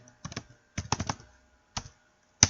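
A computer keyboard is typed on in quick clustered bursts of key clicks, a few taps at a time with short pauses between them, ending in one sharper, louder keystroke like Enter being pressed, close and clear with no talking.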